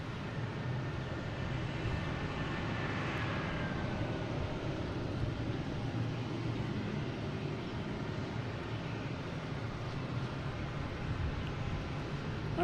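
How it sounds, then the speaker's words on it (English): An Airbus A330-300 airliner at Boston Logan airport, a steady distant jet roar that holds broadly throughout, with a faint descending whine passing early on. "This is the A330-300, flight 617"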